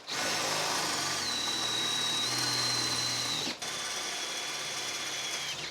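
Power drill boring holes into a metal frame, running as a steady high whine for about three and a half seconds, then a brief break and another sustained drilling pass, close up with no voices.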